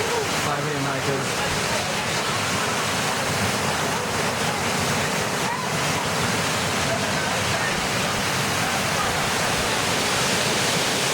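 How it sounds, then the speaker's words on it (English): Christian Valley waterfall in Antigua, a steady broadband rush of falling water that fills the whole stretch at constant loudness, close and continuous with no breaks. "this is Christian Valley Waterfall"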